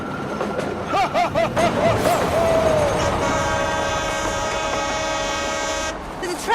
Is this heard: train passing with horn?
yes